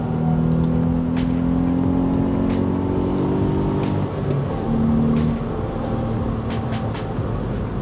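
A VW Up GTI accelerates hard from the cabin, its small engine and exhaust droning and climbing in pitch, then briefly dropping at a gear change before pulling again, loud and steady throughout.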